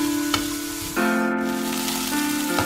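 Vermicelli fries in a pan for upma, giving a steady sizzle that runs the whole time over a constant tonal hum, with a couple of faint clicks.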